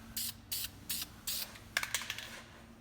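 Short bursts of spray paint hiss in a quiet room as a light base coat goes onto a Corvette, four even puffs followed by quicker rattling, sputtering spurts, close and fairly soft.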